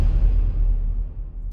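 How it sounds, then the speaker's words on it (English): A whoosh bang, or whoosh hit, sound effect from a music-production library: a single heavy low-end impact with a bright broadband edge that sustains and slowly fades over about a second and a half. "Then we have whoosh bangs,"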